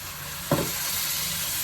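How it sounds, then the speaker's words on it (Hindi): A brief sizzle as potatoes and peas hit hot oil with spices in a pan, a single burst of frying hiss over a steady low background, no speech. "आलू और मटर को अच्छी तरह से आप भून लें"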